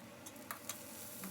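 Thinly sliced onions frying in a pan with a pinch of turmeric for a ridge gourd curry, a steady soft sizzle with a few faint clicks of stirring and no talk.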